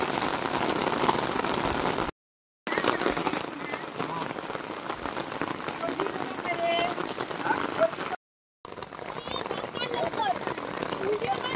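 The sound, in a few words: heavy rain falling on rice paddy fields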